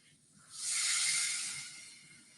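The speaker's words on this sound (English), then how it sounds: "oh, you can even hear it sizzling. Sizzle, sizzle, sizzle." Roasting vegetables sizzle in a pan as rice is about to be added, a soft steady hiss that swells after half a second, holds, then slowly fades.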